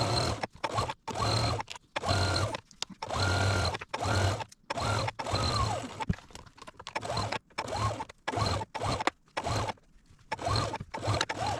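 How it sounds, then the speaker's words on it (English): Domestic sewing machine running a 3/8 seam along the edge of a child's shirt, short bursts of rapid stitching chatter separated by brief pauses, close and moderately loud. "I'm going to take it over to the machine and I'm going to sew this edge with 3/8 seam."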